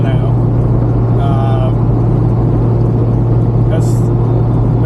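Steady low engine drone from a Nissan S15 with a 500HP RB25 engine cruising through Auckland, heard from inside the cabin as a constant loud hum, with a person talking over it.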